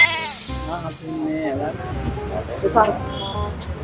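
Two newborn male goat kids bleat in short, high, wavering calls, several in a row, close by, with people talking over and between them.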